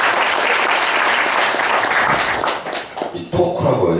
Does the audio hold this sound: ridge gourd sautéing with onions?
no